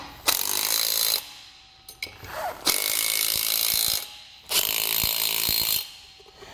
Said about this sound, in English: Now in a star pattern, we'll go around and tighten down all of our lug nuts.